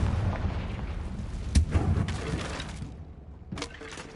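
A fiery Confringo spell blast in the game Hogwarts Legacy: loud rumbling burst with sharp cracks, then a second impact after a short lull, with no voices.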